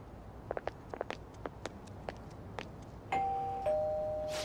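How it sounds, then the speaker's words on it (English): A doorbell rings in Persona 5, two electronic chime tones sounding clearly after a run of light tapping footsteps, with a sustained ringing tail. "You ring the bell."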